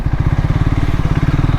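A Triumph Tracker 400 motorcycle revs up close and loud, its single-cylinder engine pulsing in a fast, steady rhythm as it accelerates.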